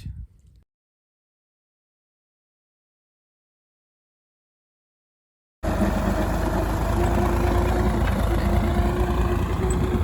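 A tractor engine runs at the Rathoa Haryam bridge construction site in Mirpur. After a long silence, a loud, steady engine rumble starts abruptly and carries on to the end.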